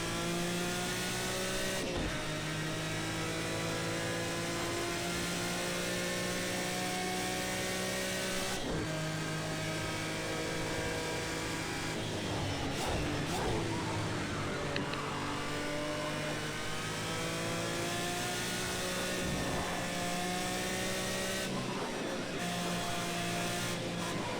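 A Group C prototype race car roars steadily at racing speed around Le Mans in the racing game Project CARS 2, its loud sustained engine tone shifting slightly with throttle and gear changes, with faint tire noise and no talk.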